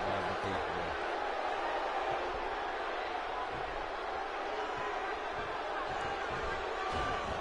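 A wrestling arena crowd keeps up a steady, broad roar as a possible new champion is crowned, with commentators talking over the noise.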